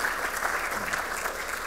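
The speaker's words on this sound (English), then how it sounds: "Let's give him a clap." Audience in a church gathering breaks into applause, a steady, dense clapping from many hands at moderate distance, continuing evenly without voices.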